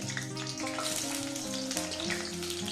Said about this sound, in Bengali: নুন হলুদ দিয়ে এটা ভালো করে ভেজে নিতে হবে আলুগুলো ঠিক ভেজে নিয়েছি